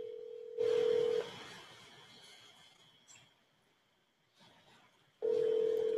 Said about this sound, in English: Let's see if I can get this person on the phone here.